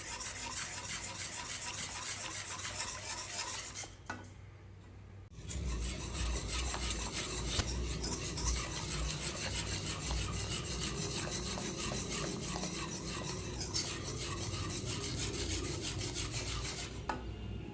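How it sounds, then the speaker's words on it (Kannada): Gram flour is stirred into melted sugar in a pan for Mysore Pak, producing a continuous scraping, rasping rub of a spoon against the pan with a faint sizzle, close and steady, with one brief pause. "ಈ ರೀತಿ ಹಿಟ್ಟು ಹಾಕ್ಕೊಂಡು ಗಂಟ್ಲಿಲ್ಲಾರ್ದೆ ಈ ರೀತಿ ಅಳಗಾಡಿಸ್ಕೋಬೇಕು ಚೆನ್ನಾಗಿ"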